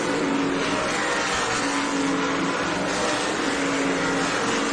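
Race cars lap the track during the Race of Champions 150, a distant, steady engine roar from the pack droning evenly throughout, fairly faint and without anyone speaking.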